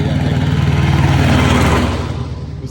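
An agricultural tractor on a service road runs its engine nearby with a loud, steady low throb that eases off slightly toward the end.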